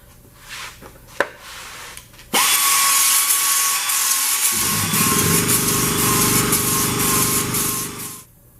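Power sander with 80 grit abrasive working on the firewall of a 1969 Chevy C10 truck: after a few light knocks it starts loud and close, then grinds steadily with a whining tone for about six seconds.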